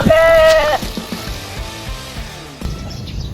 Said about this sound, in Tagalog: Naku, nagpuglasan ng mga kambing